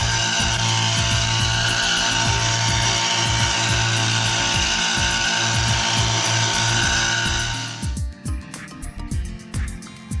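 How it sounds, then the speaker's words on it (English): A motorized crop sprayer spraying insecticide on a cabbage field in Zambia: a steady, loud engine drones with rhythmic pulsing for several seconds, then cuts off, leaving scattered knocks and rattles. "We are spraying insecticide."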